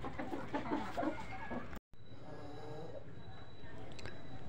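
Native Gavrani breed chickens cluck in short, busy bursts close by, mixed with a voice talking. After a brief break, the clucking continues more quietly over a steady hum.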